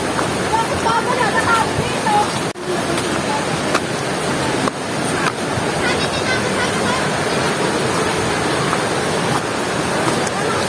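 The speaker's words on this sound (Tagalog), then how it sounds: "Naririnig nyo na ba? Yung agos ng tubig?" Rushing water of a waterfall at Camp Paraiso in Bongabon, heard as a steady broadband roar that runs unbroken for the full stretch, with faint voices of hikers approaching on the trail mixed in.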